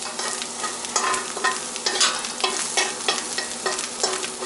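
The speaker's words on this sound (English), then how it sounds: "I'm going to cook the steak right in the middle because that's where it's hot" T-bone steak pan-searing in the hot middle of the pan, a bright steady sizzle with regular scraping strokes of a spatula, up close and without talk.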